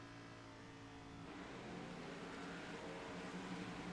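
A race car accelerates hard away after a collision, its engine roar building from a steady drone into a louder, fuller sustained rush that holds to the end.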